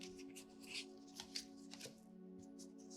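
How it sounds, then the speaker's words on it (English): Large tarot cards being handled and laid out on a surface, a few soft close slides and taps over a quiet steady hum. "We are going to put the cards like this."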